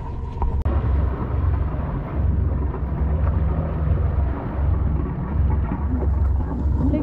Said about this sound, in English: Right now it's a bit raining, and I think it's gonna probably be a bit stormy in the afternoon